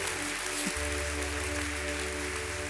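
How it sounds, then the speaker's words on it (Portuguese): A church congregation claps steadily in a worship service, a dense, continuous wash of applause over a low sustained musical drone, with no speech on top. "Você pode dar uma salva de palmas ao Senhor Jesus"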